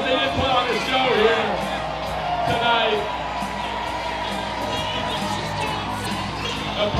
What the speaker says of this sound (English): Or a little round of applause.